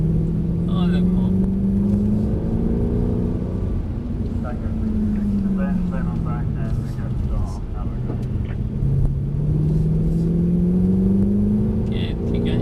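A Mercedes engine on a driving track drones and rises in pitch as the car accelerates, eases off and pulls again, steady and fairly close, with a coach talking over it.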